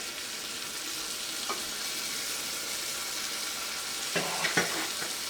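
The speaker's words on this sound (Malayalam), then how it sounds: "ഇതെല്ലാം കൂടിയിട്ട് നന്നായിട്ടൊന്ന് മിക്സ് ചെയ്യാം." Chicken curry with curry leaves, curd, salt and garam masala is stirred in a pan: a soft, continuous sizzle with a few louder scraping strokes near the end.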